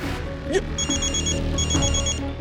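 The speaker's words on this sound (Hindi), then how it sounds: "ये लिच्चड़ लोमड़ी क्यों फोन कर रहा है, वो भी संडे को?" A telephone rings with an incoming call inside a home, an electronic warbling ring repeating in two bursts, moderately loud over a steady room background with a faint sliding tone at the start.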